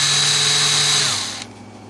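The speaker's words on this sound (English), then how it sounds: "I drill some indexing pin holes" A power drill bores an indexing pin hole into a Guild JF65-12 guitar fretboard, a loud steady whine held close for over a second, then winding down as the bit stops and the motor fades.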